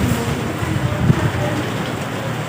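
Steady rainfall patters down outdoors near a shelter, a dense, even hiss with no voices over it.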